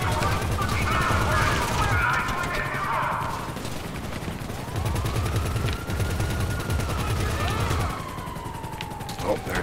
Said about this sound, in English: Definitely shooting me through that canopy.